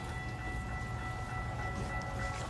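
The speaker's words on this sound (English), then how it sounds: "Here it comes. It's a freight train." A CN freight train nears a rail station at Laurier, a steady, loud low rumble with sustained tonal hum and no distinct horn blasts, continuous throughout.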